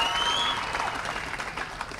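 An audience at a stage event for a film gives a dense, steady wash of clapping that fills the whole stretch, loud and continuous, with a faint tone drifting through early on.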